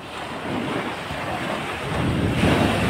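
Sea waves washing in steady and close, a continuous broad rush of surf that swells slightly louder toward the end, mixed with wind buffeting the microphone and no voices.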